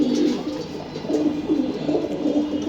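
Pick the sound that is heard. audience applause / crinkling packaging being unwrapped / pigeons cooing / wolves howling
pigeons cooing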